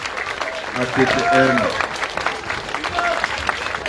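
An audience applauds students at an event, with continuous crowd clapping heard beneath a voice speaking over it.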